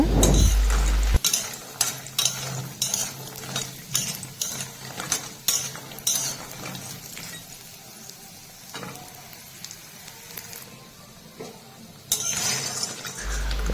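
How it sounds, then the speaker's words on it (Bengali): Lentil dumplings (dal bori) frying in a pan of oil, a continuous low sizzle with intermittent scraping, stirring and metallic clinks of a utensil against the pan. "এবারে আমি ডালের বড়ি ভেজে নেব"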